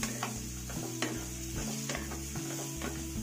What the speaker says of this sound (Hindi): अब इसमें डाल देंगे शकरकंदी जो हमने काट करके रखी है और इसे भी भून लेंगे